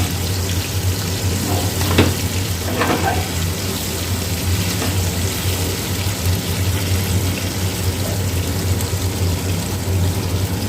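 Chicken chaap frying in a pan, pieces being turned over, giving a steady, loud sizzling hiss throughout with a low constant hum underneath and no talk.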